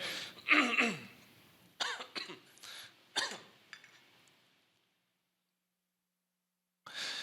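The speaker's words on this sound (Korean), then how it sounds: "이 자리에만 서면 긴장을 해서 기침이 나오는 것 같습니다" A person coughs and clears their throat several times in short, close bursts, followed by a pause of silence and then another rasp.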